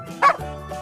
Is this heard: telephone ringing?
no